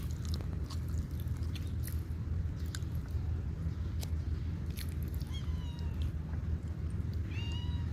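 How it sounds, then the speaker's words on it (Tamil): Up close, a cat gives a couple of faint, drawn-out meows late on, while steady low chewing and rustling noise runs throughout. "சிறுத்தை மாதிரி கத்து, பூனை மாதிரி கத்தாத."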